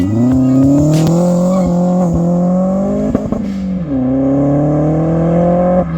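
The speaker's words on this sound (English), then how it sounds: "We put it on the dyno at cruise culture with wide open throttle" A forged-engine turbo Astra VXR roars at full throttle on a dyno, its pitch climbing steadily, dropping briefly at a shift, then climbing again; loud and close.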